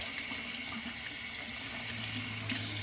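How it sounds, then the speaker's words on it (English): A Rockwell double-edge razor blade is rinsed under warm running tap water, a steady, unbroken hiss of flowing water from a faucet with no voices. "And I'm washing that off"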